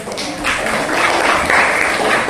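Students in a classroom clap together, a brief, fairly loud burst of applause that fills the room evenly from start to finish.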